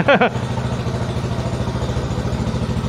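A Thunder 125 motorcycle engine idles close by, smoking heavily, with a steady, rapid putter after a brief rev at the start.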